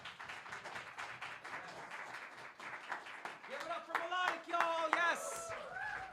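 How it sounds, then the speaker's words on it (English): A crowd applauds for a poet at an open mic in a community venue, scattered clapping under a voice. Tonal calls and whoops rise over the clapping toward the end. "Big round of applause for that."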